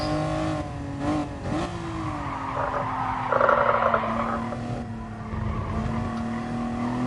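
A race car lapping a circuit in the video game Gran Turismo Sport, steady engine drone with a brief tire squeal and shifting pitch as it accelerates, no talk.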